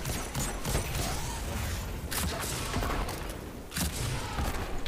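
Gunfire in a Destiny 2 Grandmaster Inverted Spire run, a dense, rumbling bed of game noise with several distinct sharp shots standing out near the start, middle and end.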